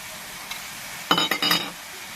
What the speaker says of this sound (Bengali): এবার আমি চিংড়ি মাছটা তুলে দিচ্ছি